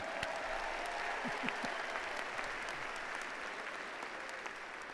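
A large audience at a spring university commencement ceremony for a College of Business applauds in a steady, sustained wash of clapping that fills the hall for the whole stretch, with no voices above it.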